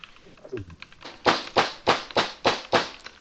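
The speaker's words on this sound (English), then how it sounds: "banging on the door." Heavy banging on a door in a role-playing game session, six loud, evenly spaced thuds following a brief quieter stretch with faint voice.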